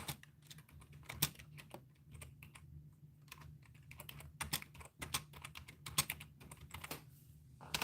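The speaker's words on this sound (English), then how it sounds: "I'm just going to type it so I don't forget." Rapid keystrokes on a computer keyboard in a nursing lecture room during a live session, a steady stream of close clicks and taps with irregular rhythm and no talking.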